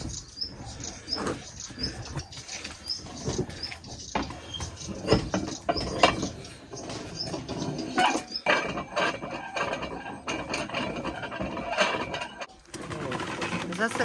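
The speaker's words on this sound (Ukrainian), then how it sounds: "Насипаємо так яблука сюди. І ось так крутимо." A hand-cranked apple crusher grinds apples for homemade village wine, giving irregular ratcheting clatter and crunching bursts in uneven rhythm, close and moderately loud, with birds cooing in the background.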